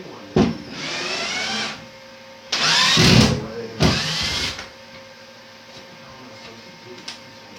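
An MPCNC CNC router with new upgrades cuts material in loud, harsh whining bursts that start and stop, with a steady motor hum continuing underneath between passes; nearby.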